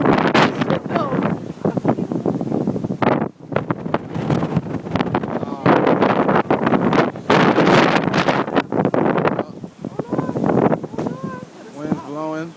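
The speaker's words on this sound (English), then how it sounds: "Wind's blowing." Strong wind blowing during a snowstorm in Brooklyn, New York, a loud, steady gusting roar buffeting the microphone while people talk throughout.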